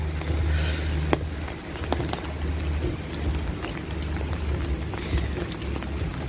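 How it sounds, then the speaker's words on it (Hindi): Heavy rain falls steadily outdoors in Spain, a dense continuous hiss with scattered sharper drops and a low rumble underneath, loud and unbroken throughout. "आज जो है ना देखिए कितनी बारिश लगी हुई है"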